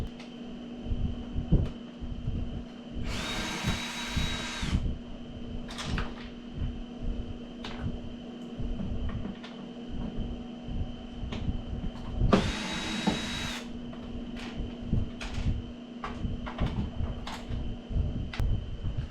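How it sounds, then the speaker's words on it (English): Power drill whirring in two short bursts while backing out the screws that hold the front panel of a Toshiba 18000 BTU air conditioner, set against a steady background hum with scattered clicks and taps between. "we must remove 4 screws that hold this whole panel in place."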